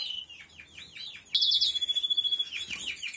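Small breeding birds in an aviary chirp and tweet in quick repeated bursts, with a fast trilling run in the middle and more calls after, close and fairly clear with no talking.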